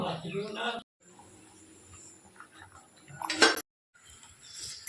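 Pots and utensils clink and clatter in a home kitchen while khichuri is cooked, with scattered light knocks, a brief louder rattle near the end and some speech.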